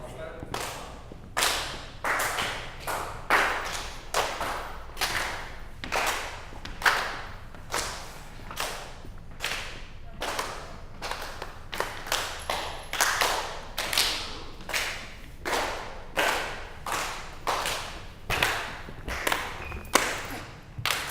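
A group of people clapping hands together in a participatory group activity, sharp rhythmic claps repeating steadily in a patterned sequence throughout, fairly close and clear, with faint voices in the background.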